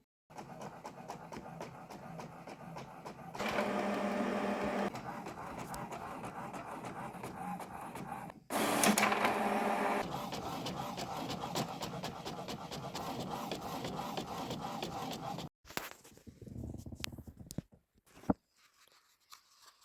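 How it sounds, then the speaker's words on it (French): A printer runs through sheets of labels and patterns, whirring and clattering in repeated mechanical bursts with short pauses between passes, then ending in a few scattered clicks and thumps. "Donc je pousse sur le bouton pour imprimer et on laisse l'imprimante faire le travail."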